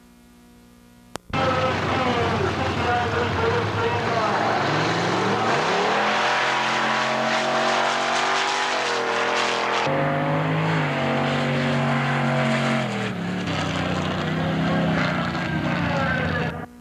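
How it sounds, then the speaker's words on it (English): A drag race pitting a car against Scott Grondal's snowmobile, engines bursting into a loud sustained roar, with revs climbing and shifting through gears over a long run; a voice is faintly heard. "Ricky faces off against the snowmobile of Scott Grondal."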